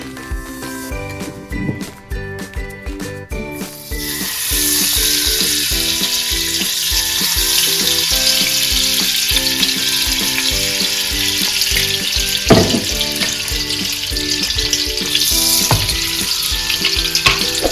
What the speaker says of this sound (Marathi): गाजरच्या शिऱ्यासाठी मी इकडे कढाई गरम करायला ठेवली आहे। त्यामध्ये मी 3 चमचे तूप टाकते आहे